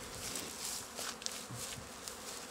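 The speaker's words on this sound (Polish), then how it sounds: "pszczoły wszystkie pędzą pięknie" A dense, continuous hum of many honey bees buzzing all around an apiary, steady and moderately loud, with occasional individual insects passing closer.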